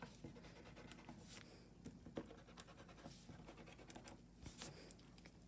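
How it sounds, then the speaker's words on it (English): A pencil eraser rubs lines off paper in brisk, faint, scratchy back-and-forth strokes, heard close up and continuing steadily with no talking. "And then erase what I don't need."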